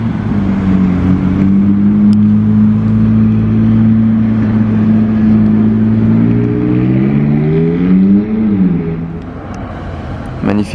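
Loud sports car engine holding a steady deep drone, then revving up and shifting pitch as it drives off, near and continuous.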